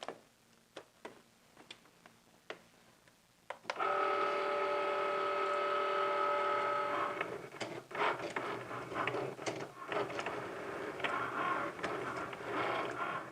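A Cricut cutting machine slices vinyl with a steady whirring drone and rhythmic mechanical ticking as the carriage shuttles back and forth, preceded by a few scattered clicks, close and alone without voices.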